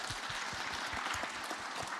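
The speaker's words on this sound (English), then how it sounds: "let's start with a round of applause for the panel." Audience applause for a panel at a talk on a just transition from intensive livestock farming, a steady, even patter of many hands clapping, fairly faint and distant throughout.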